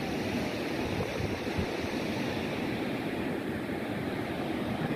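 Sea waves break steadily near a lighthouse on the Gujarat coast between Porbandar and Dwarka, a continuous rushing surf with some wind buffeting the microphone and no voices.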